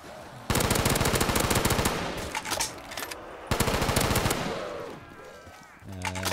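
Call of Duty Black Ops 3 Zombies, on a SpongeBob Rock Bottom map, with two long loud bursts of rapid automatic gunfire, separated by a brief lull, followed by game tones at the end.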